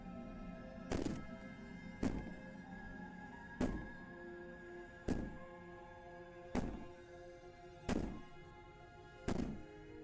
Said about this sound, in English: Maybe the banging and wailing will stop if you just don't pay attention to her.